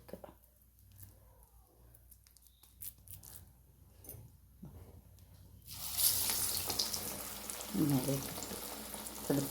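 Parippu vada, a lentil fritter, dropped into hot oil in a home kitchen, starting a loud, steady broadband sizzle about midway that carries on to the end after a quieter stretch of small handling noises.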